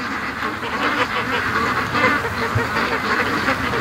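Hundreds of ducks gathered at a lake keep up a loud, unbroken clamor of overlapping quacks and honks, close and busy throughout.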